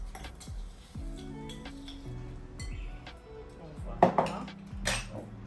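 A spoon clinks and scrapes against a dish while a peanut butter dish is prepared in a home kitchen, with a few sharp clinks near the end over a quiet, steady background.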